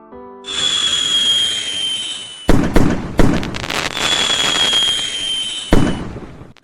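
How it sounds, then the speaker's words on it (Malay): Red fireworks launch in the Roblox Brookhaven video game, each with a long shrill rising whistle. Loud cracking bangs burst in quick succession, then another whistle and a final pop, close and alone. "Kami lepaskan bunga api merah ke langit."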